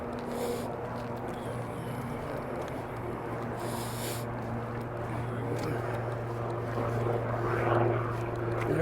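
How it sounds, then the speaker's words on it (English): A steady low rotor and engine drone holds throughout, growing slightly louder toward the end as the aircraft lifts, with a faint voice in the background. "There goes the helicopter just taking off."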